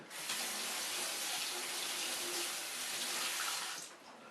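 A knife blade used to cut a pepper is rinsed under running kitchen tap water. A steady, close hiss of flowing water lasts about four seconds, then stops abruptly.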